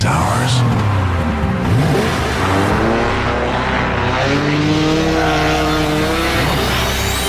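Race car engines in the Nintendo Switch 2 racing game Gear.Club Unlimited 3 roar loudly, with revs rising and falling in sweeping passes. A voice talks over them.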